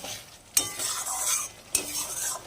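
Masala spice paste being stirred and fried in a pan for a spicy fish curry, with two sharp spatula scrapes against the pan over a continuous close sizzle.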